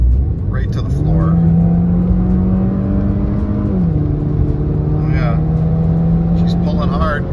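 A Mini Cooper fitted with a replacement turbo cartridge accelerates hard, its engine droning loud and steady from inside the car with a rising whine that dips at a gear change, while someone talks over it.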